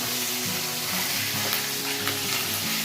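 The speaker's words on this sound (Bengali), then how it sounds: "এই যে মাথাটা এখন ভাজা হচ্ছে" Raw fish head frying in oil in a home kitchen pan, cooked for mung dal, giving a steady close sizzle with soft scraping stirs throughout.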